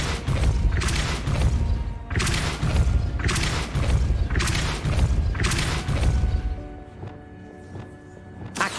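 Depulso push spells in Hogwarts Legacy land as a rapid series of heavy thumping blasts, five or six loud, evenly spaced booms with crashing tails. The impacts give way to a quieter ambient stretch at the end.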